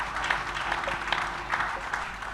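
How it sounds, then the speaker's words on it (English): Scholars in a forum hall clap together, a moderate, fairly distant patter of applause with scattered individual claps standing out. "With an applause from scholars in the room, Professor Emmanuel Otolori takes the podium"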